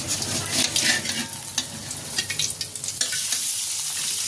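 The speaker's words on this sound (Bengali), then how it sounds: "মাছগুলো এক পাশ ভালো করে ভাজা হয়ে গিয়েছে এখন উল্টে দিব" Flipped rohu fish pieces sizzle in hot oil, a close, continuous crackling fry with scattered utensil scrapes and stirring taps over roughly four seconds.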